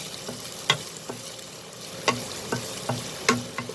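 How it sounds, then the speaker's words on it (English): Ingredients for an aloo samosa filling sauté in a pan, giving a steady sizzle with sharp stirring clatters of a spoon against the pan at irregular moments, close and fairly loud. "I will just saute them. I'm not going to fry them completely,"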